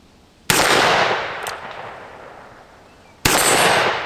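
Two loud, close shots ring out from a Henry Big Boy .357 revolver, each a sharp crack followed by a long decaying ring outdoors, spaced nearly three seconds apart with no talking.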